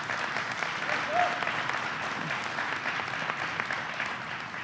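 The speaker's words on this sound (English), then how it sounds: "Let's give him a round of applause." Applause from a crowd welcoming New Jersey Governor Chris Christie at an event on a Camden high school rehabilitation, a moderate steady clatter of hands from a distance, with a voice faintly present at times.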